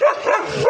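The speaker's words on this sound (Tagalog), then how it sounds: "Bali may bantay na asong malaki. Bantay. Yung aso." A large guard dog on a farm in Camarines Sur gives one loud, close bark that trails off briefly.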